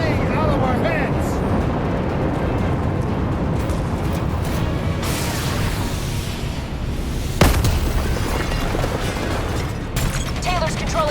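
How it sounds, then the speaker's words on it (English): A mothership launches missiles in Call of Duty: Black Ops III, with heavy rumbling booms and explosive bursts over a constant roar of combat, a sharp blast standing out midway, and voices shouting throughout. "Mothership's launching missiles! Get to cover!"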